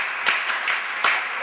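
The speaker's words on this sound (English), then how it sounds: "Clap for him." Several scattered, separate hand claps sound in a classroom as a few students applaud a classmate, irregular and fairly close, with a steady room background.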